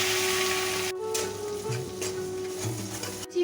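Ginger, chili and cumin paste sizzles in hot oil, a quiet steady crackle with a brief clatter as the paste goes in and soft stirring scrapes, no voices.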